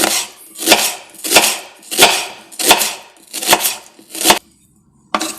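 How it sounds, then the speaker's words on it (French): An onion diced with a knife for a mushroom tartiflette, giving seven loud, regular chopping strokes on a board, then a brief pause and one more cut, close up with no talking. "on passe à la découpe de l'oignon"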